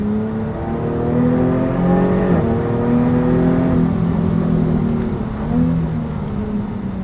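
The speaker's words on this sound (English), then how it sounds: "The V6 raspiness is there." Jaguar F-Type S with a V6 engine accelerating on a narrow German road, a steady raspy exhaust note climbing smoothly in pitch, loud and close, with no talking.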